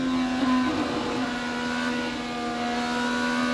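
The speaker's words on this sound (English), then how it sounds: "But listen to Dixon work the throttle." IndyCar engine at the 102nd Indianapolis 500, with Scott Dixon working the throttle late in the race amid four-wide traffic: a loud, steady high-pitched engine drone that wavers slightly as the throttle is modulated, heard alone.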